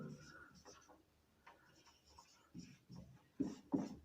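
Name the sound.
writing on a board or paper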